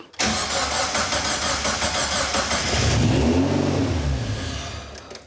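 A Locost 7 kit car engine cranks and catches, then revs up high with a rising roar before settling back down; loud and close, no voices.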